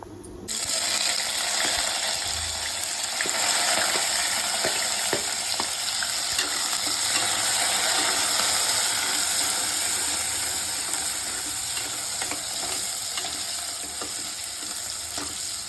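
Cumin and fenugreek seeds fry in about three spoons of hot oil, giving a loud, continuous sizzle with fine crackles and small pops that holds steady and fades slightly toward the end.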